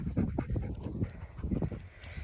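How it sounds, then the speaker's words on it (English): A dog pants rapidly and steadily outdoors among brambles and nettles on a hillside walk, breaths close and moderately loud, with rhythmic bursts continuing throughout and no talking. "Let me show you some of the dogs that we have"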